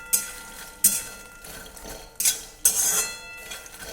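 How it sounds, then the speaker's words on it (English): Makhana fox nuts stirred in hot ghee in a pan over a medium flame, a spoon clattering and scraping against the metal in several sharp, irregular knocks with quieter rustling between, close and clear with no talking. "I'm going to stir it continuously until it gets crispy"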